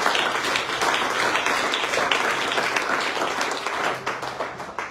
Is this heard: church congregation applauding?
yes